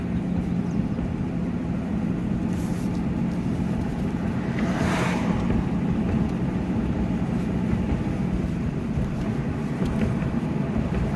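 A 2004 Jeep Liberty 4x4 with a transmission control relay fault accelerates on the road, a continuous engine and road drone with revs swelling and easing as it shifts up through the gears.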